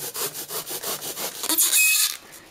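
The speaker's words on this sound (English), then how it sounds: "And just go down with a hacksaw blade to as deep as you can without straying" A hacksaw blade cuts by hand into sheet foam in quick even back-and-forth strokes, a close, soft rasping rub repeating about eight times before a brief brighter scrape.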